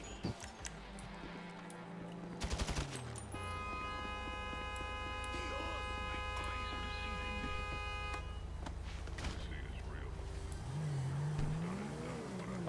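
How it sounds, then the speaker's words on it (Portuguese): A cheap street car in GTA revving and launching hard from a standstill, a loud steady engine drone with a horn-like tone running through the middle and pitch swings near the end, with voices chatting over it. "Esse carrinho mó bosta que eu peguei aqui na rua tem uma arrancada mais rápida que o meu carro fortunado"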